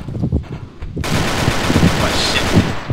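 Rapid pistol fire in a video game cuts in abruptly and continues as a loud, dense burst of shots, preceded by a moment of talk.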